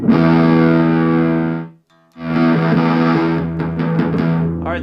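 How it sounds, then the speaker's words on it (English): An electric guitar played through an Effects Bakery Sandwich Fuzz pedal churns out thick, distorted riffs, with sustained fuzzy chords, a brief silent gap, then choppier picked phrases, loud and upfront. "I'm just going to mess with this pedal in real time and just play a few riffs"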